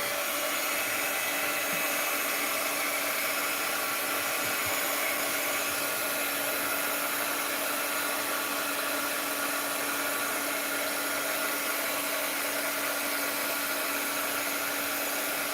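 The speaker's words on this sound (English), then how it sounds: "Let's hit these with the heat gun." A heat gun dries freshly painted pieces with a loud, steady blowing whir that runs unbroken throughout, with no speech.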